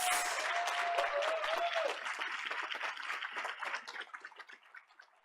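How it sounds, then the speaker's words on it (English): Audience applause follows a mariachi performance at a school board meeting, a dense wash of clapping that thins and fades over several seconds, with a faint sustained tone early on. "Let's give them another round of applause."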